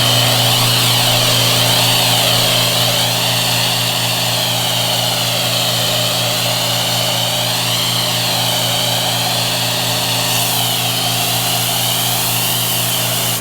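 Pressure washer pump running steadily and loud while a 1984 cabover Peterbilt with a reefer unit is washed, a continuous droning whine with a constant hum and no break or voices.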